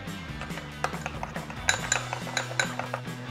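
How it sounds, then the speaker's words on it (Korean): A spoon clinks and scrapes against a bowl while tartar sauce of onion, lemon juice and pepper is stirred. The taps are rapid and irregular, fairly close, with soft background music and no talking. "다음 레몬즙과 후추를 넣고 잘 섞어주시면 됩니다."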